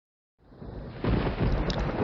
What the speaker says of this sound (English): And there followed peals of thunder and sounds and flashes of lightning and an earthquake